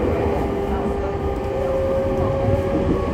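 A JR E501 series train, car MoHa E501-3, runs from Mito toward Tokai on a snowy day, its steady motor hum and rumbling wheels heard from inside the carriage as a continuous drone.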